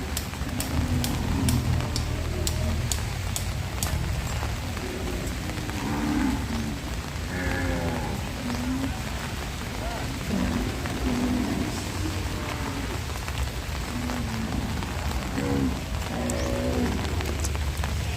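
Steady rain drums on surfaces at an outdoor cattle market in Roi Et, Thailand, with occasional cattle calls and faint distant rumbles mixed in throughout.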